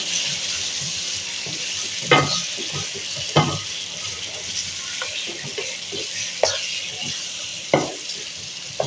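Garlic ginger paste fries and sizzles in a pan, steady and close, with scraping stirs of a spoon landing every second or so over the hiss.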